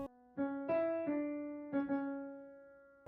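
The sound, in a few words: piano playing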